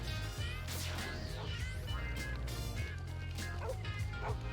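Repeated dog barks and yips from a video game, loud and fairly close over a steady low rumble of game sound, with a few sharper cries scattered through.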